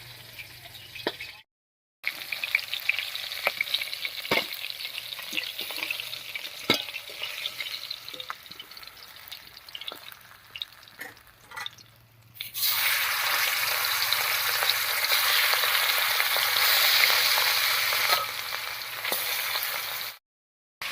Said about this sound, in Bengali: সবগুলো মাছ ভাজা হয়েছে